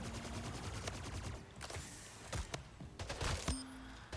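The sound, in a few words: gunfire in the video game Splitgate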